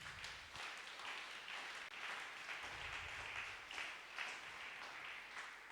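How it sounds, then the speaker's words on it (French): A church congregation at a prayer marathon applauds for the glory of Jesus, a steady wash of many hands clapping in a large room, moderately loud and sustained throughout. "Est-ce qu'on peut acclamer pour la gloire de Jésus?"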